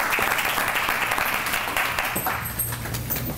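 An audience at a 2011 research symposium lecture applauds to welcome the lecturer: dense, steady clapping from a full room that holds at one level for several seconds, with no voices over it.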